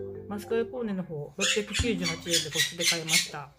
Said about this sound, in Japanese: ちょっとね、鳥の声がうるさいと思います。